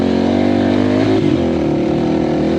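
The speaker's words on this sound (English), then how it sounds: "Jake's driving a Honda" A Honda dirt bike engine drones loudly and close on off-road trails in Kentucky, holding a steady rev with a slight rise and dip.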